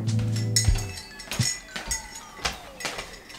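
A spoon stirs honey into hot water in a mug, giving a string of light, close metallic clinks and taps against the ceramic, with faint background noise and no clear talk.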